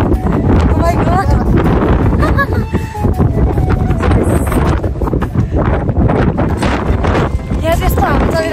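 Strong wind gusting in the mountains of Mustang, roaring steadily and loudly across the mic throughout, with someone talking over it.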